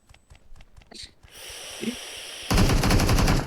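UMP submachine gun fire in PUBG Mobile, with scattered single shots and short bursts early on, then a loud, rapid, sustained burst of automatic fire close up, and no talk over it.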